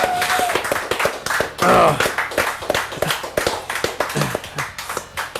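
A few people clap their hands during a podcast, sharp uneven claps in a quick irregular patter, close by, with voices talking over them.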